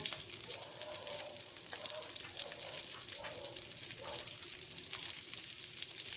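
Chopped onions frying in ghee with fennel seeds and dried red chilli for Patiala chicken, a steady close sizzle throughout with a few soft stirring scrapes and no talk.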